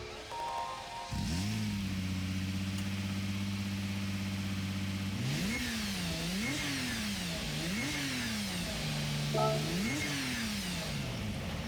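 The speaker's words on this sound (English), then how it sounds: "we'll listen to the startup sound" A 2000 Lamborghini Diablo GT in Gran Turismo 7 fires up, settling into a steady idle before a string of sharp throttle blips rise and fall, loud and close, with no talking.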